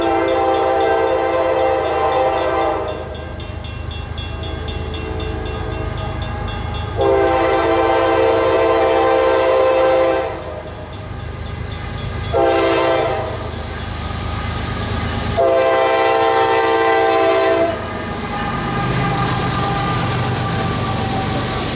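BC Rail C40-8M diesel locomotive 4619 hauling a northbound freight train at track speed, sounding several long horn blasts over the steady rumble of the passing train, close and loud with no talking.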